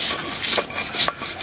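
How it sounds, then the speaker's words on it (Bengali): Dried puti fish and fried onion are ground by hand, giving rough rasping strokes in a slow back-and-forth rhythm, close and fairly loud. "এখন বাটবো পুটির শুটকি মাছ আর পেঁয়াজ ভাজা।"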